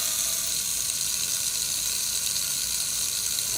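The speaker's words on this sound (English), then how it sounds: "We're going to turn on the water faucet" A kitchen water faucet runs at full flow, a dense, steady hiss of rushing water heard alone and close for a few seconds.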